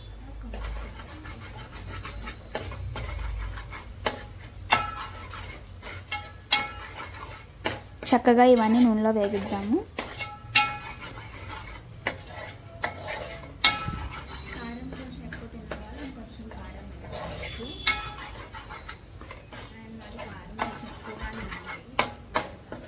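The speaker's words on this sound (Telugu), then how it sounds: "ఇవన్నీ వేసుకొని చక్కగా మిక్స్ చేసుకోవాలి ఇప్పుడు ఈ నూనెలో ఇవన్నీ కూడా బాగా వేగాలన్నమాట" Spices and garam masala are stirred in hot oil in a pan for Kashmiri chicken curry, giving soft scraping, rubbing strokes and occasional utensil clinks under continuous talking.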